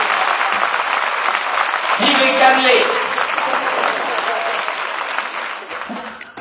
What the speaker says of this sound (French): sous l'applaudissement